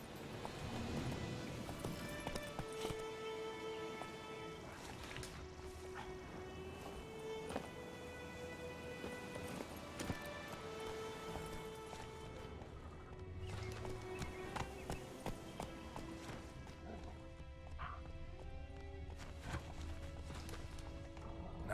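Hooves of Roach, a horse in The Witcher 3 video game, clip-clop in a quick steady gallop rhythm alongside game music, with no talk.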